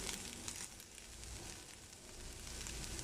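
Chicken sizzles steadily in a hot pan over a medium flame, a soft, even crackle of frying oil with no voices, quiet and continuous throughout.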